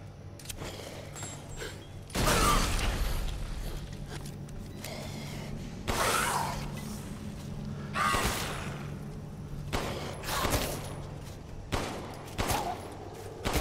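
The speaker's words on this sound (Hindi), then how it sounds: "यार इन पे पाइप बम फेंक रहा हूँ" A thrown pipe bomb in Resident Evil Village: a sharp, loud blast followed by further scattered bursts and impacts over a low steady hum of game ambience, with a few softer clanks and whooshes between them.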